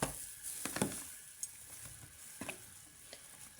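Fish is mixed with spices in a bowl, soft close squelches and scattered clicks against a quiet background, with no speech.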